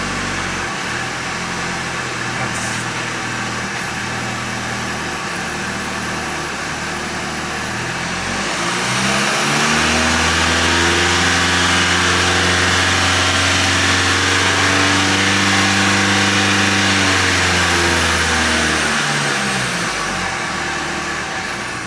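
A Volkswagen with a European 4motion transmission drives steadily, then its engine note rises and holds a strong, loud hum before dropping back as the automatic transmission shifts down into first gear; no one speaks.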